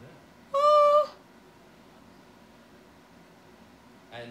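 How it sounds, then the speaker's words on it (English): A domestic cat gives one clear, fairly close meow lasting about half a second, followed by a quiet room hum and a faint brief sound near the end. "Oh, kitty."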